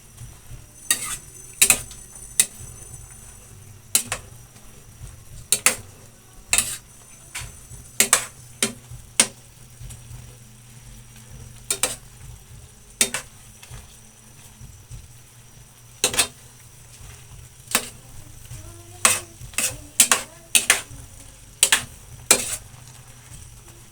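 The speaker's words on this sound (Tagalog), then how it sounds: "Haluin natin para hindi siya mabuo ang gata niya." Repeated sharp clinks of a spoon against a pot while stirring coconut milk, irregularly spaced, over a low steady simmering hiss, with no voices.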